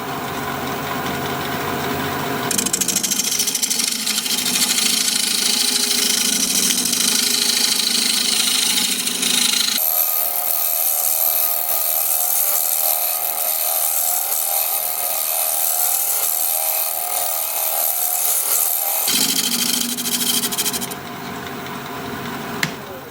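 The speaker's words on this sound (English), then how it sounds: "I'm going to switch to carbide for a minute to undercut this a little." A carbide tool undercuts a cracked olive wood bowl spinning on a lathe, a loud continuous whirring hiss of cutting that shifts in tone as the tool bites harder, then eases off near the end.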